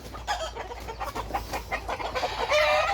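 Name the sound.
chickens clucking on a farm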